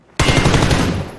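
A sniper rifle shot in the battle-royale shooter PUBG lands as a single loud, sharp blast, with a tail that rings and rumbles for about a second.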